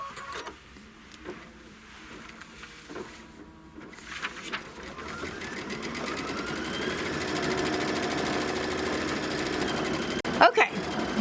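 A sewing machine quilts a Kimberbell Mistletoe Mystery block, its steady mechanical whir building and holding through the second half, with a sharp knock near the end and speech at moments.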